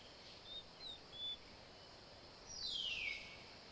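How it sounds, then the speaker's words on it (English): Quiet Indian jungle ambience with a few brief high bird chirps early on, then a longer descending call, over a faint steady insect hiss. "the jungle pulses with the sound of insects and birds"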